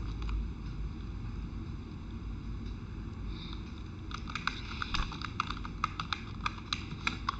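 Keys on a computer keyboard tapped in quick bursts while entering a ledger in Tally accounting software, the clatter growing busier toward the end over a steady low background hum.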